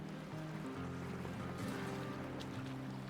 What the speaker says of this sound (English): Something very peaceful about the sound of waves lapping the shore.